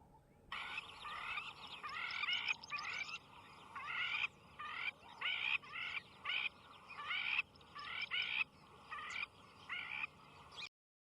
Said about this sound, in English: They've got this fantastic, another quintessential African bird call.